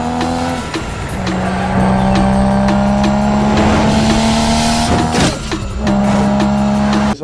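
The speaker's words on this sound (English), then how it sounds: "how this turbocharger is whistling" A Nissan Skyline R34 GT-R engine roars loudly and close, with a sustained turbocharger whistle riding over it. The tone rises and falls as the car revs, with brief dips between pulls.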